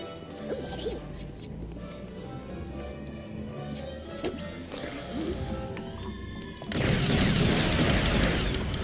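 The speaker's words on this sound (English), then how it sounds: "Blow up this place for just no reason." Explosions in Lego Star Wars: The Complete Saga, playing as Han and Chewie, come as dense game noise, building to a loud, sustained roaring blast in the final seconds.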